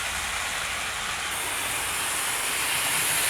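Model railway with streamlined locomotives running, a continuous broadband hiss and rumble of wheels on track, steady and fairly faint, with no voices.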